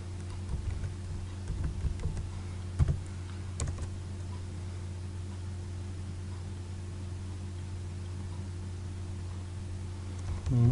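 The word 'footer' is typed on a computer keyboard: a handful of soft, scattered keystrokes over a constant low electrical hum and faint hiss, with no talking.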